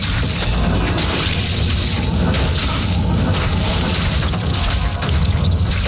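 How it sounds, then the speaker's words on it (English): Enemies shattering under a hurricane attack from a Wind Druid in a video game, a loud continuous roar of crashing, whooshing and breaking with no pause, dense from start to end. "Everything shatters."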